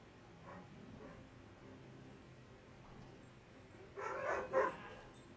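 Husky dogs barking outside, a faint distant bark early on, then a louder burst of barks and yips near the end over a low background hum.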